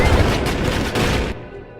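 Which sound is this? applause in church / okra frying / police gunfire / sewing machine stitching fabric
police gunfire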